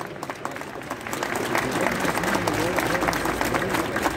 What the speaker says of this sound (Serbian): Molim vas jedan aplauz za studente